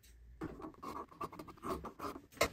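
Fabric for a Christmas tree skirt being cut out after measuring, a series of soft, close scissor snips and rustling cloth, fairly quiet and without talk.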